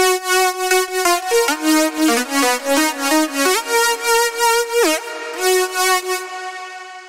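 A bright happy hardcore synth patch with its glide turned off plays a loud, close melodic sequence of rapid stepped notes. It ends with a short bend and a fading tail, and no voices are heard.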